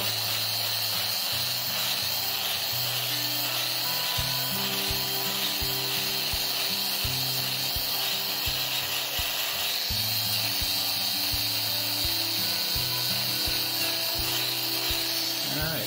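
A goat's hoof being trimmed and rasped flat at the sole and toe, a steady rough rasping and rubbing close up over a constant background hiss and hum, continuing throughout.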